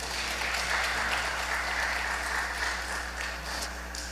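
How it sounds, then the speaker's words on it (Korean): Sustained applause from a church congregation at a Sunday worship service, steady dense clapping filling the room for the whole stretch at an even level. "박수로 응해 주십시오"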